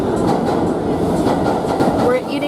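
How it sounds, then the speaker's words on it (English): New York subway train passing beneath a restaurant, a steady low rumble and rattle filling the whole moment, with a brief faint squeal near the end. "We're eating on top of the subway."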